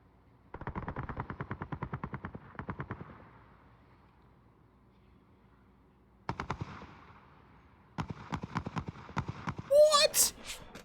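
Assault rifle gunfire in a video game, rapid automatic bursts in several separate strings with pauses between them, fairly close and crisp, no talking.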